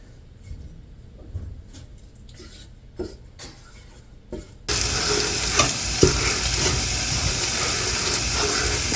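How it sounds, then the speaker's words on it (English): A pan of sausage sizzles loudly and steadily, crackling and hissing close by, after a quieter stretch of stirring and scraping flour. "And you can hear my sausage is sizzling."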